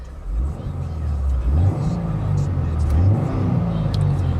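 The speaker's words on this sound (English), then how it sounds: "Revs up nicely, it idles smoothly." A 2016 Subaru WRX turbocharged engine blipped on a stationary car, two rising rev swells over a steady idle, close and fairly loud.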